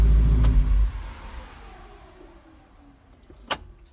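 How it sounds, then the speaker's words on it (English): A Ford Mustang fitted with a boost controller shuts off inside a garage: a loud engine rumble cuts out within the first second, leaving a quiet, fading room tone, with a brief click or clunk near the end. "I'm just going to shut the car off"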